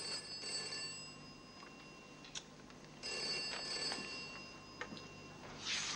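A private telephone rings indoors in a steady electronic trill, several bursts spaced across the clip, clear and close with a quiet room behind it.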